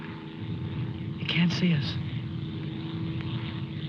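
A propeller plane drones overhead at a distance, a steady low hum beneath quiet speech from people hiding below.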